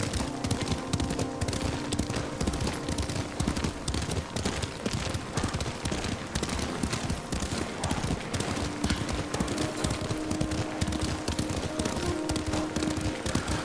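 Steady galloping clip-clop of horse hooves while riding in the video game Ghost of Tsushima, continuous and fairly loud, with no talk over it.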